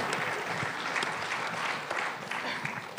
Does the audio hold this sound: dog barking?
no